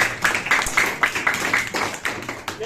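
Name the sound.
students clapping for a classmate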